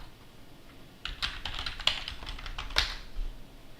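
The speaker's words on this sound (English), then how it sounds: "so okay, let's type sudo." A command being typed on a computer keyboard at a Fedora workstation: a quick burst of close, crisp key clicks after a short quiet pause, uneven in rhythm with a few louder strikes, no talking.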